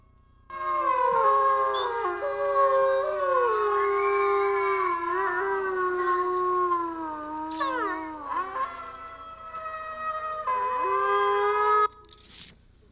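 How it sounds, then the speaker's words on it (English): Wolves howl in a long chorus of several overlapping voices, loud and close, with rising and falling sustained tones and a few yips near the end, with no talking. "Have you ever heard a wolf howl?"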